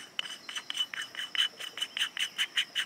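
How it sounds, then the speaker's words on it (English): A metal Dead Air E-Brake being threaded onto a Nomad L suppressor, heard close up as a steady run of short scraping, rasping turns with small clicks between them and no talk. "screw it right on there, tighten it down"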